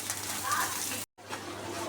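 Prawns with onion and garlic fry in a pan for prawn balachao, giving a steady close sizzle with a brief stirring scrape, cut by a short silent gap.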